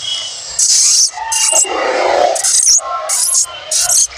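A man imitates the call of a small monkey with his voice, making close, loud, shrill chattering bursts. Several sharp cries come in quick, uneven succession.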